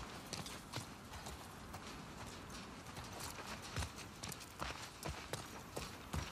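Rapid clip-clop of horse hooves at a steady run in the video game The Last of Us Part II, fairly close, with a constant background wash and no talking.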